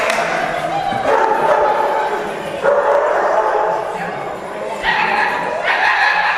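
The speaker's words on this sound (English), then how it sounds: "Let's hear some barking." Several dogs bark and yip excitedly, overlapping in a continuous noisy chorus close by.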